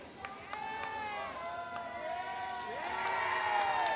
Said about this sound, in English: And there's a big cheer.